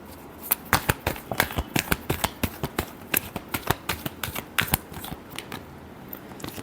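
Tarot cards are shuffled by hand close up, a rapid series of crisp riffling snaps and flicks repeating steadily for several seconds.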